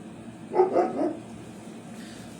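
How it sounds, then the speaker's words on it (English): A dog barking indoors, three quick barks close together in one short burst, fairly near, with otherwise quiet room tone and no talk. "Oh, sorry, the dog's barking."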